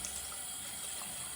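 Running tap water rinses a makeup brush at a sink, a steady, even hiss of flowing water close by, continuing unbroken throughout with no talking.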